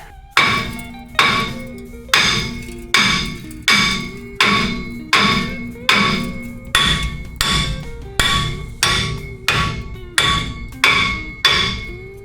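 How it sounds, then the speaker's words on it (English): A hammer strikes a brake rotor on a Ford Super Duty truck in a steady series of about fourteen heavy clanging blows, roughly one per second, each ringing briefly before the next hit. "So let's grab a hammer."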